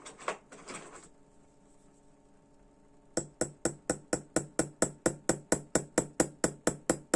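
Sharp metallic hammer taps on the balance staff of a Slava alarm clock strike in a fast, even rhythm, about five per second, after a brief clink and a quiet pause.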